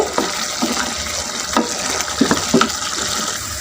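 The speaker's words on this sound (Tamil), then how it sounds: "சேர்த்தி நல்லா கொதி வரட்டும் கொதி வந்து எண்ணெயெல்லாம் பிரிஞ்சு வரணும்" Tamarind puliyodharai mix simmers in oil in a pan, giving irregular soft pops and bubbling plops over a constant close hiss, with no one speaking.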